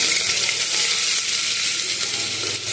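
Finely chopped raw onion fries in a pan with a steady, close sizzle and a faint stirring rustle, loud and continuous without any voices.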